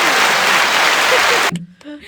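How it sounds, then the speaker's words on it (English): A burst of dense applause-like clapping fills most of the moment, then cuts off abruptly and a voice briefly speaks. "there's a clapping sound effect there"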